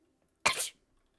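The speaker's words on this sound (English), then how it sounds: "Have a little sneeze." A single short sneeze bursts out close to the microphone, a sharp broadband blast lasting about a quarter second, with near silence before and after.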